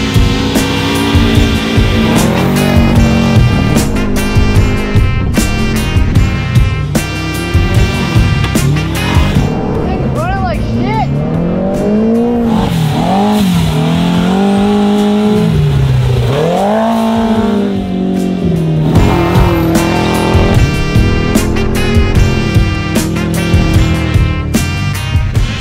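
A drift car on a private drift track screams near the limiter in first gear, a loud, continuous, wavering engine wail with sustained revving and rises and dips in pitch throughout, close to the mic and dominating the scene.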